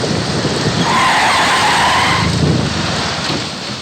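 A car pulls up and stops in front of a college, its tyres hissing and skidding on the surface in a loud, continuous rush that eases off toward the end, with no talk.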